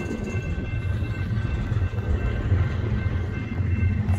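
A long westbound BNSF freight train rolls steadily past at close range, with a continuous low rumble and rail noise. Its cars pass without a break.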